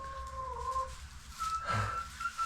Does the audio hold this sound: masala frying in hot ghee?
no